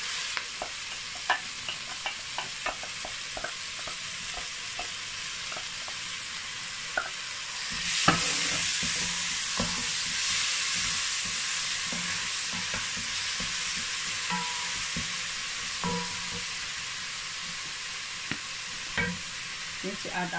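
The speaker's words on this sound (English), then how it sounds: "so now I'm going to add my tomato." Chopped tomato hits hot oil in a pan for vegetable rice with turkey, setting off a steady sizzle that swells louder partway through, punctuated by light scraping stirs of a utensil.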